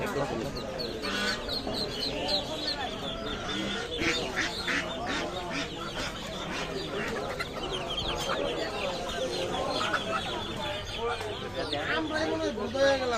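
Local ducks quack and cluck continuously in a crowded market, mixed with chicken-like calls, while people talk loudly nearby throughout.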